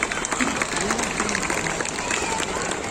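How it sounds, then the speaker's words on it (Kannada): An audience applauds at a Kannada stage show, the Karunada Sambhrama celebration, with dense, continuous clapping across the whole stretch and a voice speaking over it through a loudspeaker. "ಜೋರಾದ ಚಪ್ಪಾಳೆ ಬರಬೇಕು ಪ್ಲೀಸ್."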